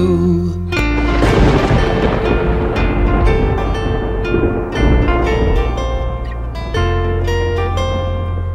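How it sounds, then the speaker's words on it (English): A thunder effect in a children's nursery rhyme, a loud rolling rumble that swells and lingers for several seconds, blended with sustained tonal music throughout. "I hear thunder, oh don't you, oh don't you."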